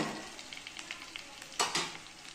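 Okra frying in a pan gives a soft, steady sizzle with light stirring scrapes and one louder clink near the end, close and quiet.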